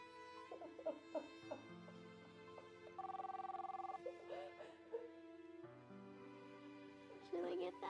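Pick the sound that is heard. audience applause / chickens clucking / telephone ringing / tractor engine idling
telephone ringing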